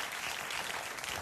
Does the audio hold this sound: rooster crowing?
no